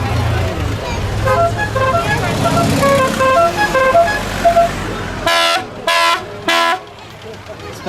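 Car horns honk to greet the opening of a bridge. Mixed traffic toots and a person talking come first, then three loud, evenly spaced long horn blasts sound close by.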